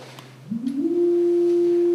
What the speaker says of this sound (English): Now, this sounds like a sine wave.